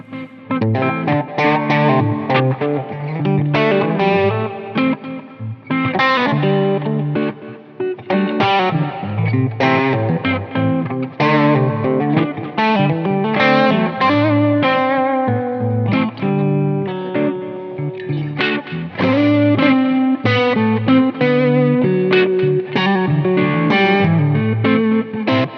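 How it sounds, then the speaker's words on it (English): Gretsch electric guitar with Filtertron pickups, run through effects with distortion and chorus, plays a continuous chordal and melodic passage, loud and close with a wide, shimmering tone. "Today I'll show Guillaume how to make a Gretsch sound awesome"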